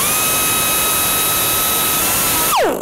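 A power tool trims the edge of a canoe part with a loud, steady, high-pitched whine held close for a few seconds, then switched off so the whine winds down quickly.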